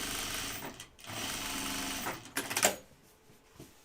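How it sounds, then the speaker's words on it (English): A sewing machine stitches along the top edge of a pair of jeans in a steady, fast whirring run that briefly pauses, then ends in a short burst, close up with no talking. "I'm going to stitch along this top edge."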